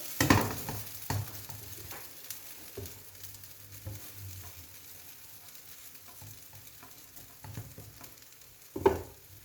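Spinach and cornmeal börek sizzles in hot oil in a frying pan, a steady crackling fry with sharp clattering bursts as the pastry is flipped near the start and end.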